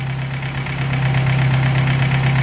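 Car engine idles close by with a steady low hum and a faint, rapid ticking from a sticky lifter running evenly through the whole stretch, no speech.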